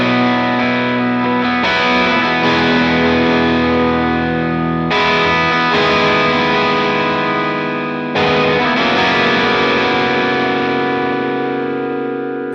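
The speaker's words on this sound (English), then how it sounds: "It's a good overdrive." An electric guitar plays sustained, overdriven chords, struck three times and left ringing with a gritty, distorted tone, loud and close.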